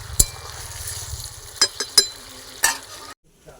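Potol posto, pointed gourd in a watery poppy seed paste, bubbles and sizzles in a pan, close and steady with a few utensil clinks against the pan before cutting to near silence.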